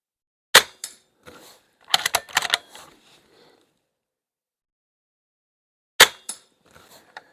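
A BSA Super 10 .22 air rifle fired nearby: two sharp, loud cracks several seconds apart, each followed by metallic clicks and clatter of the action being cycled.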